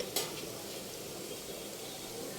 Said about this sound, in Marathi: आता याला आपण मंद आचेवरती खरपूस भाजणार आहोत